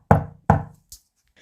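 Two firm knocks on a wooden door, close and loud with a short gap between them, then a faint softer tap; no one speaks.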